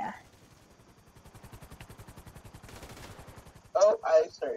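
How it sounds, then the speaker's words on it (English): Rapid automatic gunfire in the video game Grand Theft Auto 5, a steady rattling burst of evenly spaced shots that grows slightly louder, then a speaking voice breaks in near the end. "Oh, I started shooting."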